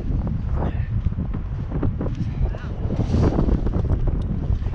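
Wind buffets the microphone at a coastal state park on a November morning, a gusty roar that swells and fades, with people chatting under it.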